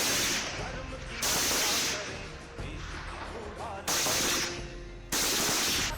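Gunfire from Indian Army Bhairav Battalion commandos during firing practice: three loud bursts of rapid shots, each lasting under a second, break over a steady noisy background.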